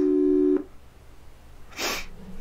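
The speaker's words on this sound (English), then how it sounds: "It's ringing, my dudes." On an outgoing telephone call, a steady ringback tone holds for about half a second and then cuts off, followed by a brief burst of hiss, all close and fairly loud with no talking.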